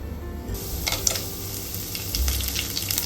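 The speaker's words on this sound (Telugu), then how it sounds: "ఆయిల్ కాగింది, మనం శనగపప్పు వేసుకుందామండి." Chana dal dropped into hot oil for a tempering, a close crackling sizzle that jumps up after a brief quieter start and holds steady, with small pops, no voices.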